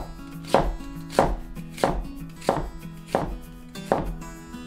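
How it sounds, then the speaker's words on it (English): A knife slices through an onion on a cutting board into slices about 5 mm thick, giving six firm, evenly spaced chops close by, each one a crisp crunch ending in a wooden tap, with no talking. "So when slicing the onion, please cut it along the grain."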